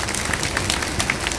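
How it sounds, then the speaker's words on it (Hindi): An audience claps loudly at a Bhagwat katha religious gathering, with steady dense applause filling the whole stretch with no voices. "आप इनके लिए खूब जोरदार ताली बजाओ"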